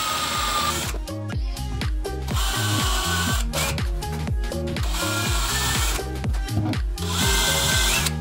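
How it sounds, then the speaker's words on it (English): A power drill pre-drills holes in cement backer board during floor tiling. It runs in a loud, rapid rhythmic chatter with short pauses between bursts, heard up close and alone. "First, I'm gonna pre-drill some holes."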